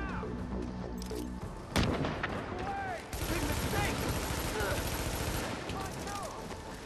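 A grenade blast erupts amid sustained automatic gunfire during a firefight in Tom Clancy's The Division at the Russian Consulate, with a sharp boom near the two-second mark, then dense rattling shots continuing, voices talking over the combat.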